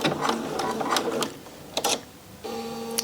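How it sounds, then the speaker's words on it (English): A sewing machine reverse stitches an invisible zip, close rapid mechanical clatter in short bursts with a brief lull before running on again. "I'm going to reverse stitch there."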